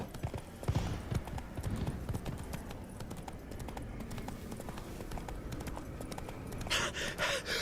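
The horse Roach's hooves clip-clop steadily in a video game, a rhythmic trot of close, clear hoofbeats running throughout, with a brief vocal gasp near the start and a louder burst at the end.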